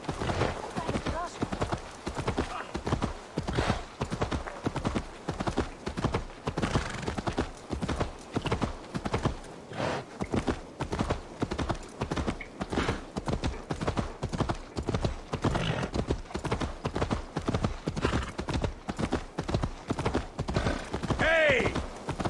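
A black horse galloping in the video game Assassin's Creed Valhalla: rapid, evenly paced hoofbeats drumming continuously and close for over twenty seconds, with a brief snort or whinny near the end.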